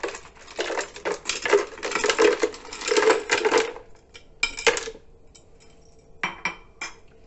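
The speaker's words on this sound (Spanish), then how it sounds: "Y por último vamos a poner los hielos." Ice cubes tumble into a blender jar holding a Baileys frappe mix with cocoa, first in a dense rattling clatter, then in a few scattered clinks as the last pieces settle.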